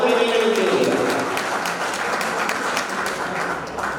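Audience applause at a World Photography Day event, a spread of clapping from the crowd under a voice speaking over a public address at the start.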